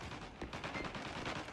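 Rapid gunfire from a wallbang attempt in the shooter game Spectre Divide, a dense, continuous burst of shots filling the whole moment at steady, loud volume with no talk over it.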